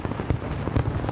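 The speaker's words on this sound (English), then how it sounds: "To the disbelief of many, the famous fireworks show went ahead." New Year's Eve fireworks show in Sydney amid thick smoke; two loud booming bursts about half a second apart over a continuous rumbling crackle, fairly distant, with no voices.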